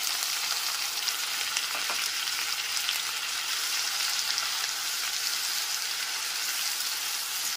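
Ginger, garlic and onion paste sizzles steadily in hot oil with browned fried onions, a close, continuous frying hiss with faint stirring scrapes and no voices.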